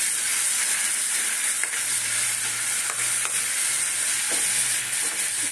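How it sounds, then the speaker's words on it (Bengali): Potato-soaking water poured into a hot pan of curry with boiled potatoes, a loud, steady close sizzle and hiss with occasional stirring scrapes, no voices. "যে বাটিতে আলু রেখেছিলাম এই জলটা দিয়ে দিলাম"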